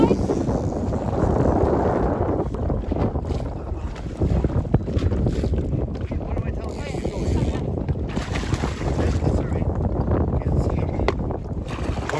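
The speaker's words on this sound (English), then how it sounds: "I got the trolling motor" Boat trolling motor running on a lake during a muskie fishing trip, a steady low rumble blended with heavy wind buffeting the microphone and water noise throughout, with people talking over it.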